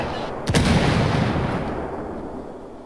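Gunfire in the open-world shooter Ghost Recon Wildlands: a sharp shot rings out near the start, followed by a sustained loud roar of battle noise that slowly fades.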